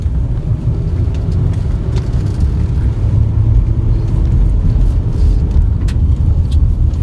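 A car drives steadily through a multi-level parking ramp, with a continuous low engine and road rumble that holds even and close throughout, along with faint scattered rattles and knocks.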